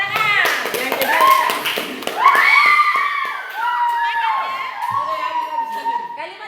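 Schoolchildren in a classroom clap their hands in quick rhythmic bursts, mixed with children's shouting and voices throughout.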